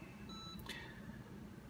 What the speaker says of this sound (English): you'll press and hold this button on the right for 3 seconds, and you hear a beep